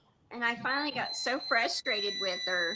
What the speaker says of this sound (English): Sorry, that's our alarm.